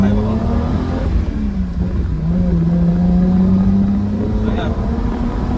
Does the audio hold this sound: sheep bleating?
no